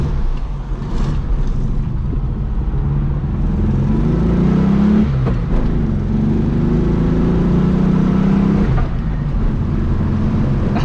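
A Volkswagen Beetle engine revving while driving, a loud steady droning hum with rising and falling pitch, heard close from inside the car without talk.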